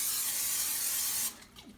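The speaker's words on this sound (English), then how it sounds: "let's give this a good spray." Cooking spray hisses out of a can onto an 8x8 baking pan in one steady, close burst lasting about a second before cutting off, followed by faint handling noise.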